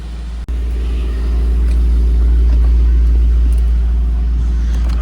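A Mercedes-AMG GT63s on a test drive gives a steady, heavy low engine rumble that swells slightly after the first second and holds loud and even throughout, with no talking.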